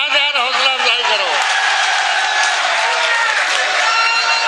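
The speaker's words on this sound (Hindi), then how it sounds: "भाई एक बार जोरदार तालियों के साथ यार हौसला अफजाई करो" Loud, steady applause from an audience at a poetry gathering, mixed with a few cheers and voices at the start, then a continuous dense wash of clapping.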